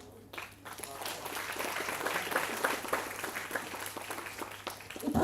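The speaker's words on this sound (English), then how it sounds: "Can we have a big round of applause?" Audience applause at a student induction programme at JIS University, a steady wash of clapping that builds across the hall and swells louder at the end, with some voices mixed in.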